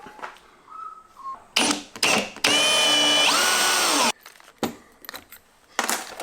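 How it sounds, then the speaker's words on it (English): Short bursts of mechanical grinding and whirring from a drill boring a pilot hole through a plate start and stop, with one sustained high-pitched drilling run in the middle, separated by quiet gaps. "I'm going to go through with a pilot drill first, a bit smaller"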